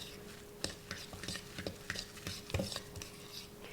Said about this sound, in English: I want to go ahead and mix the cream cheese with the spinach.